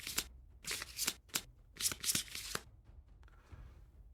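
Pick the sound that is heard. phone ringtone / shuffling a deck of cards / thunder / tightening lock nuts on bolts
shuffling a deck of cards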